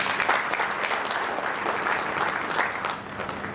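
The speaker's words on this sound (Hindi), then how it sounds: "आप अपने आप के लिए एक बार जोरदार ताली बजा दें" A seminar audience breaks into loud, sustained applause, a thick wash of many hands clapping at once with no pauses.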